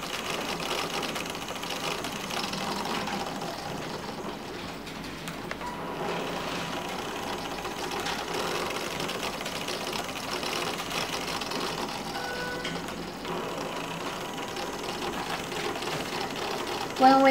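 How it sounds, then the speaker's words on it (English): A small DC motor, run by an Arduino wireless speed-control system using NRF24L01 radio modules, whirs steadily and continuously at a fairly constant speed, close by, with a brief louder burst at the very end. "the motor will rotate at the speed of third leg"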